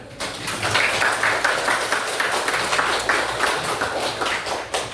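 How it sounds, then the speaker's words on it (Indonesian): A classroom group clapping hands in applause, a dense steady patter of many claps sustained throughout, fairly loud and close. "Tepuk tangan."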